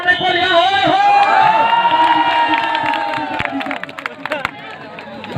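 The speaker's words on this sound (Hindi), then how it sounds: "ताली बजाते रहिए, कोल्हिया नहीं होना" Spectators at a state-level kabaddi match between Tamnar and Siryagarh clap and cheer in a loud, nearby crowd, and a sustained raised voice rises over the noise before scattered claps take over.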